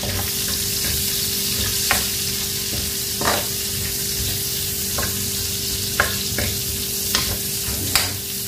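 Onion sizzles steadily in a hot pan with the leftover frying oil, a dense, close crackle broken by several sharp clicks of a utensil stirring against the metal.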